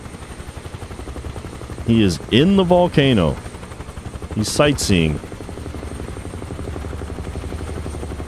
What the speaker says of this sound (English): I'm also trying not to crash the helicopter.